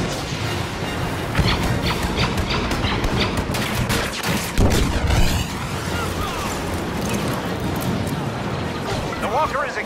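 Heavy blaster fire and explosions during a battle against an Imperial Walker in the Star Wars Battlefront game, a continuous dense barrage with booms, under voices and radio chatter.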